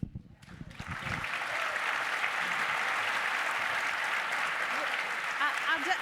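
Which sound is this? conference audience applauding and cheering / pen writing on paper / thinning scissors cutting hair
conference audience applauding and cheering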